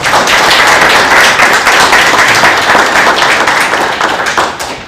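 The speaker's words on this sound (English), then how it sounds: "So give yourself a round of applause." Students and parents at an engineering ring ceremony give themselves a round of applause, loud dense clapping filling the room before it fades toward the end.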